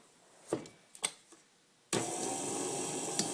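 An electric stand mixer creams muffin batter for banana chocolate chip muffins, starting after a few soft knocks and clicks with a sudden steady whirring hum that runs on at moderate loudness.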